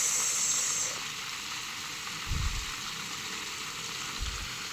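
Chicken adobo frying in a pan gives off a steady, close hiss and sizzle, with two brief low thumps partway through and no talk.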